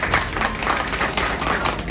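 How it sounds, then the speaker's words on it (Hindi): Audience applause at an Independence Day celebration welcoming a guest of honour, dense steady clapping from a crowd that holds for the whole two seconds without a break. "कृपया तालियों से उनका स्वागत करें।"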